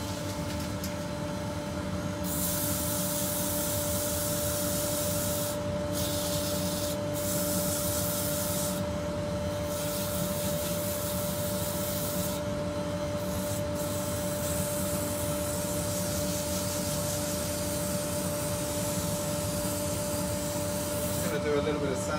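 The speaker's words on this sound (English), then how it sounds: "dust extraction on, just very briefly." A dust extractor roars steadily beside a wood lathe in a woodturning workshop, a constant loud whooshing hum with a high tone, while sanding rubs against the spinning wood in short bursts.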